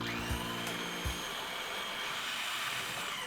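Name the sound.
blender or food processor pureeing white bean dip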